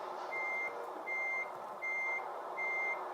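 Four evenly spaced electronic reversing beeps from a Volvo FH16 truck in Euro Truck Simulator 2 repeat at a steady pace over a constant engine drone.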